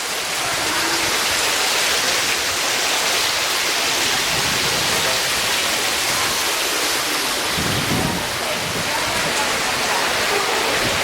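Water pours steadily into the San Antonio River Walk, a loud, continuous broadband rush like a small waterfall that stays constant throughout, with a brief low rumble partway through.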